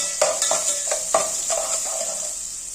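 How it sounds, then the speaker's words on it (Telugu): Onions fry in oil for carrot rice, giving a steady close sizzle with repeated scraping stirs of a spatula against the pan, roughly every half second, and no talking. "ఉల్లిపాయలు నూనెలో చక్కగా ఫ్రై చేయండి"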